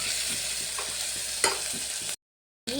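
Spices fry in hot oil for avarekalu sambar, a steady close sizzle with repeated scraping strokes of a spoon stirring the pan, cutting to silence near the end before the sizzle resumes.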